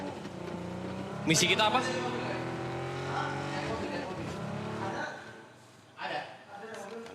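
A car in a PUBG tournament match drives with a steady humming engine, then tires skid briefly, all under a clear commentator voice and game chatter.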